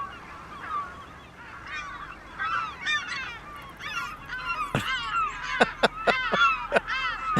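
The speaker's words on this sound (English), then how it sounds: "Oh, those little seagulls are very loud," Seagulls in the Farming Simulator 25 video game, on a Western Australia farm map during a wheat harvest, squawk and honk in a loud, dense flock, with sharp overlapping cries and a few clicking bursts over a steady background.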